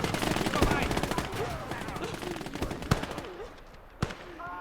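A half-track's mounted machine gun fires in a World War II battle game, a rapid stream of close, loud shots that fades into scattered distant gunfire and single bangs near the end.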